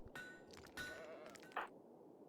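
Sheep bleating in the RimWorld video game, a couple of nasal bleats at moderate level over a steady ambient game background, with no talking.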